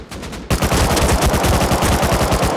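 Rapid, sustained bursts from an M2 heavy machine gun in a video game open up after a short moment of quieter firing, loud and close, with a steady hammering rhythm that continues to the end.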